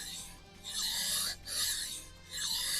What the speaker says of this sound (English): I might just keep on sharpening this knife.